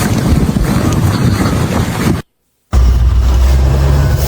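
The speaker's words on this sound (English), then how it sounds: "It's just chill wind, sort of covering. Well, it's bringing snow." Cold Canadian winter wind gusts loudly and steadily, roaring and buffeting at close range, broken by a brief half-second of silence before the blustery rush resumes with a deeper low rumble.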